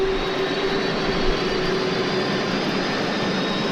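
A fighter jet engine roaring in steady broadband rumble with a faint whine, heard from a distance and fairly quiet, continuous and unbroken for the whole stretch with no talk.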